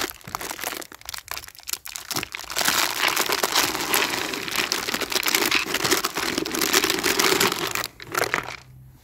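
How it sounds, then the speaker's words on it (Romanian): Small plastic bags of lawn fertilizer, 500 grams each, being cut open outdoors, a sustained close crinkling and tearing of plastic running for several seconds, with a few sharper rustles before and after. "Așadar, tai punguțele."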